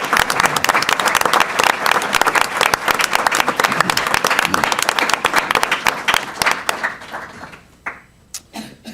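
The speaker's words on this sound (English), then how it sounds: "Another round of applause for you, Jessica." An audience at a school district board meeting and awards ceremony claps for a student, a close, dense round of applause that thins into scattered last claps after about seven seconds.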